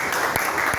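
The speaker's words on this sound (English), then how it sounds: "Just keep clapping" A crowd at a live event in Port Harcourt keeps up steady, dense applause, a loud continuous patter of many hands heard briefly and on its own.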